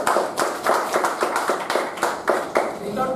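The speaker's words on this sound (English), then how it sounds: "May I request all the Toastmasters and distinguished guests to give a big round of applause for proper speech" Applause for a speech at a Toastmasters club meeting: a small group clapping at close range in an uneven rhythm of individual claps, with no talking over it.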